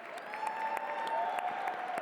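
An audience at a Christmas Tree Ball claps for the event staff, dense steady applause from a large crowd that holds at an even level throughout, with a faint tonal hum beneath.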